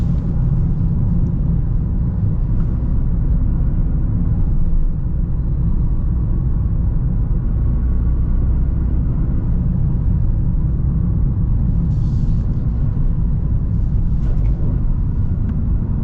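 A 2025 Toyota GR Corolla with firm suspension rolls over a bumpy road, heard from inside as a loud, continuous low rumble of road and engine noise, with no talk.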